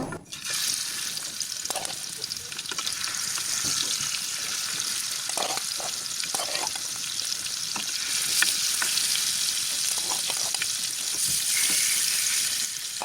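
Dandi fish (tular dandi) fry in oil in a frying pan, laid in one by one, giving a loud, dense, continuous sizzle with occasional sharper spits and crackles up close.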